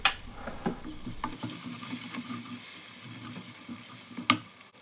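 Masala frying in oil in a pan for a banana flower pakoda curry, a steady soft sizzle broken by scraping stirs and occasional clinks of a spoon against the pan, close and without talk.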